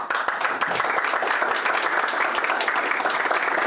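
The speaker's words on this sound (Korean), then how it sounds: "우리 그 친구 위해서 박수 한번 부탁드릴까요?" A forum audience claps for newly arriving trainees, brisk applause from a moderate crowd with individual claps audible in the mix, starting abruptly and staying steady and fairly loud.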